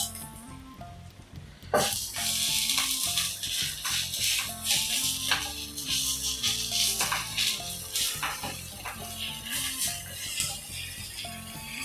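Onions fry steadily in a hot pan, with scraping and clicking stirring sounds over a background of music.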